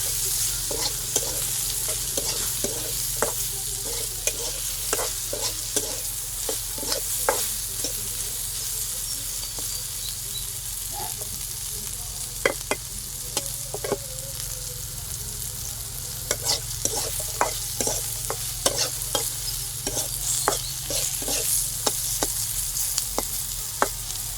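Flat beans fry in a pan for Bengali sim bharta, with a steady sizzle running throughout and frequent sharp scrapes and clicks of a spatula stirring them. Nobody speaks.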